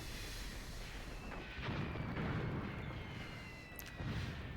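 Distant mortar explosions on a World War II battlefield in Graviteam Tactics, Second Battle of Kharkov: deep rumbling booms rising out of a constant low battle roar, with two heavier thuds a couple of seconds apart.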